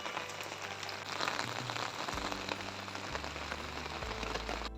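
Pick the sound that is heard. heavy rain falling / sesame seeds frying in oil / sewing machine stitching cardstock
heavy rain falling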